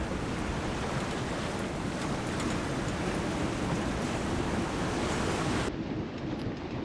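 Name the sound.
waves slamming against a sailboat hull, wind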